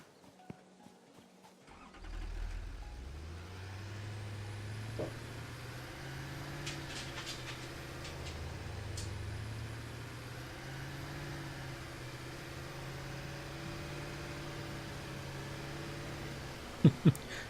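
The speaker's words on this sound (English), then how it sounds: "Yeah, the tractor can barely make this" A tractor engine in the video game Satisfactory labors uphill, starting up and then droning steadily with a low, shifting tone, faint and continuous, with a couple of sharp clicks near the end.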